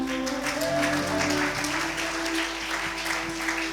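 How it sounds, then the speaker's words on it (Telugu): A church congregation claps during a sermon, a continuous patter of applause with sustained tonal music or a held keyboard note ringing beneath it, moderately loud and steady. "కొడదాం గట్టిగా చప్పట్లు."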